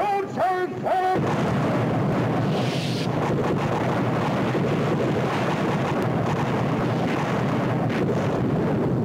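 A sailing warship's broadside of cannon fire rings out in a film: a brief shouted voice, then a long, heavy, rumbling roar that fills the rest of the clip.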